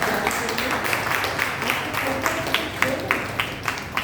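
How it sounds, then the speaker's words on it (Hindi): Loud applause from an audience at a spiritual discourse on marriage and yoga, sustained rapid clapping with some sharper, rhythmic claps, close and full, with faint talk underneath. "जोरदार ताली बजाएगा हम"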